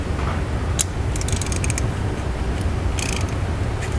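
A Premier clutch alignment tool is tapped into aluminum threads, making clusters of quick metallic ratcheting ticks and creaks over a steady low background hum, close and without speech.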